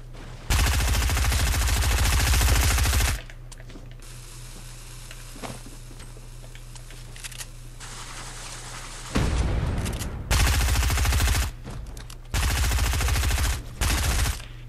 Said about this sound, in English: Pick up this submachine gun.